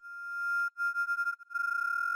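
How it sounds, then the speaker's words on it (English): A synthesized sine-wave tone with unison detune holds a clean steady pitch, briefly cutting out, then returning with a rapid wavering pulse from the detuned voices. "The whole sound is based around this sine wave and this unison D tune."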